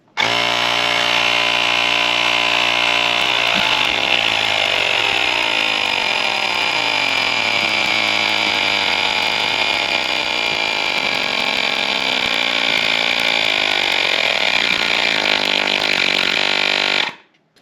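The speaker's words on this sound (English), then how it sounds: "I'm gonna reset the clock and show you guys how well this pump actually works" Electric air pump filling a Harley-Davidson Road Glide motorcycle tire, a loud, steady mechanical whine and buzz running close and unbroken for about seventeen seconds before it cuts off, with no talk.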